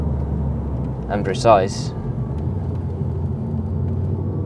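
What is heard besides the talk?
Ford Focus RS500 engine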